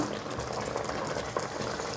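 Chicken pie sauce boiling and bubbling in a pan on the stove, a dense, continuous burble of popping bubbles with a few louder plops, close and fairly loud, no talking.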